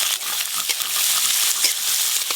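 Chopped onion and dried red chilli frying in mustard oil in a kadai: a steady, close, dense sizzle with scattered small crackles throughout, no voices.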